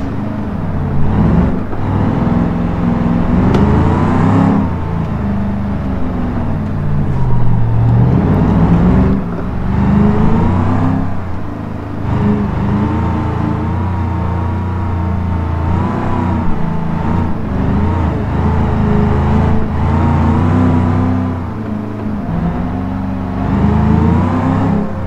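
Simulated Ford Explorer engine in the BeamNG driving game, climbing a hillside, revs loud and close in sustained waves that rise and fall in pitch for the whole stretch, with no talk over it.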